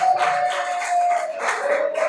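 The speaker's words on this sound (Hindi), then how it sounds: "तालियां जोरदार।" Loud audience applause rings out at a Nasha Mukt Bharat (drug-free India) campaign gathering: dense, continuous clapping fills the room, with a steady whistling tone running beneath it.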